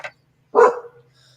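A dog gives one loud, close bark indoors, preceded by a brief yip and followed by quiet.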